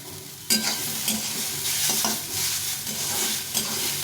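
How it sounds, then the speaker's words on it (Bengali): Chopped banana stem fries in hot oil for a mash, with a continuous loud sizzle and crackle broken by bursts of scraping as it is stirred in the pan. "একদম সুন্দর করে ভেজে নিতে হবে জল জল থাকে না এই ছ্যাঁক করছে"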